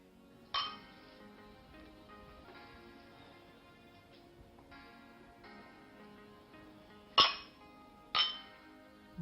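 Glasses clink together in a toast, a few sharp ringing chimes scattered through a quiet room, with two bright clinks close together near the end.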